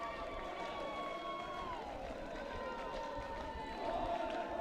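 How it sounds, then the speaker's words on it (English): Haudenosaunee fans at a lacrosse game cheer and sing in a steady crowd roar that swells slightly near the end, with a voice carrying over the noise. "I can hear Haudenosaunee fans cheering in the crowd, singing"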